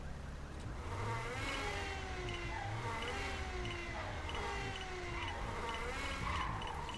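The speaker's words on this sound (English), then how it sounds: "Now, that is a very, very windy diff." A sports car in a racing video game gives off a loud, continuous whine from its differential, with tonal sweeps rising and falling over engine drone, like a siren, as the car moves at modest speed.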